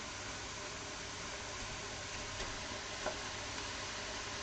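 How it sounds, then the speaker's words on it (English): Fish pieces and prawns are stirred in a frying pan, giving a steady, even sizzle with faint scraping ticks throughout. "So we're just going to stir the fish pieces in first."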